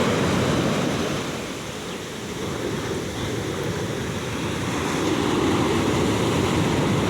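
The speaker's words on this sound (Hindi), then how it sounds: "कितनी खूबसूरत लहरें आ रही हैं" Ocean waves break on the shore in a steady roar of surf, swelling and easing over several seconds, with no voices.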